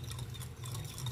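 A little water poured into a cooking pan, a soft continuous liquid trickle with light splashes, quiet and close, without talk.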